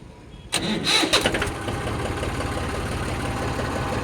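A Mahindra 275 self-start tractor engine cranks and catches, then settles into a steady, close, rhythmic diesel idle with no talk.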